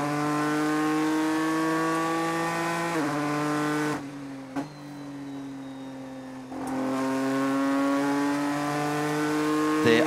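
Endurance race cars at Spa-Francorchamps in the 2016 FIA WEC six-hour race, a loud sustained engine whine with upshifts, a brief quieter gap, then the engine drone returning strongly.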